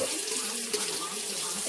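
Water runs from a tap to wet fingertips while making Detroit-style deep dish pizza dough, a steady close splashing stream filling the whole short moment.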